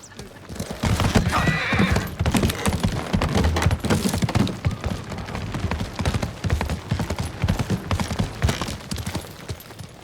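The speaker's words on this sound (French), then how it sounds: "Tu es un bon cheval, Nobu." Horse hooves clip-clop in Ghost of Tsushima, a steady rhythmic trot carrying through the whole stretch, loud and close, with a horse neighing early on amid game ambience.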